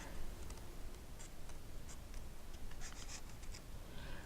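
Scissors cut through paper in a series of quick, close snips over a hissy background.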